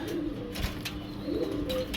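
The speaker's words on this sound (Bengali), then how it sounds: "একজোড়া অ্যান্ড্রপ কবুতর, অনেক সুন্দর।" A pair of Andrope pigeons coo. Low, soft, repeated coos are heard close by, in an even rhythm lasting about two seconds, with no speech.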